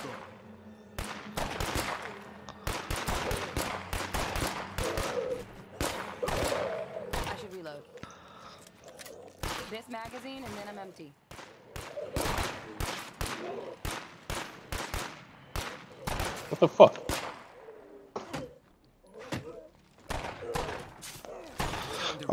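Gunfire from a crouched player in State of Decay 2: rapid bursts of sharp, close shots in clusters and single cracks spread across the stretch, with pauses between volleys, under occasional talk.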